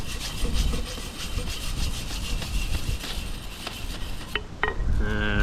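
Hand sanding with sandpaper outdoors at a bushcraft camp, a steady close rasping scrape of rough strokes, ending with a few light knocks and a faint ringing tone.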